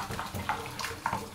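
Hot tap water running into a sink during dishwashing, a continuous close splashing stream with small clinks and shifts in the flow.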